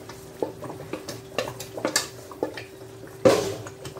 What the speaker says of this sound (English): So I'll just stir it.